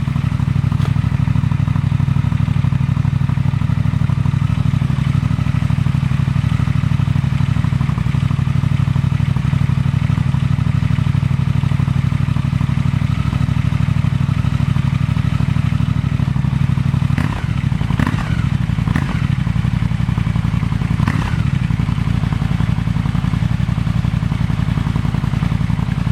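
A Triumph Thruxton RS motorcycle fitted with Verex slip-on mufflers idles with a steady, loud, low engine drone throughout, with a few brief sharper blips late on.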